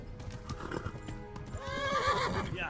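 A horse in the medieval game Kingdom Come Deliverance gallops with quick, busy hoofbeats and then lets out a loud, rising whinny near the end, set against game music and ambience.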